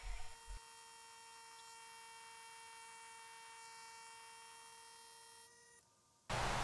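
A vacuum pump degassing resin casting for woodturning drones with a steady, even mechanical hum throughout, briefly changing near the end before a loud burst of noise cuts in.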